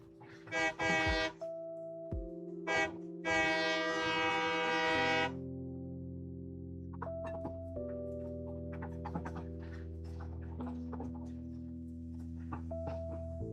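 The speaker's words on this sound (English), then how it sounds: "No, it's the train noise as well." Train in Satisfactory, a factory-building game: loud horn-like blasts up front, then a sustained low engine drone with shifting tones, continuing without talk.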